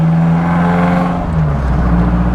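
A 1997 BMW Z3 with a 1.9-litre engine drives along, its steady engine hum and whirring drone close and fairly loud, pitch dipping and shifting slightly as it moves, with no talking.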